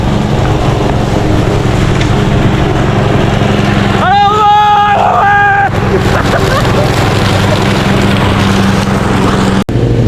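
A Honda CRF 250 dirt bike engine idles while warming up at a riding field, a steady low rumble throughout, briefly overlaid by a short barking or squealing sound in the middle, with no clear talk.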